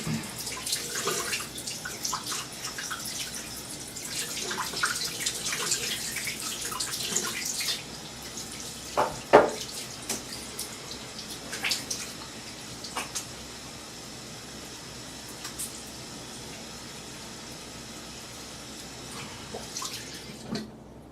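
Water runs from a bathroom tap while the face is rinsed after a wet shave with a slant razor, a steady splashing stream for several seconds that then drops to quieter trickles and drips.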